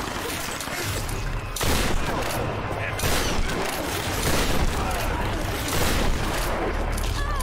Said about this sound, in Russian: Откуда выстрелы?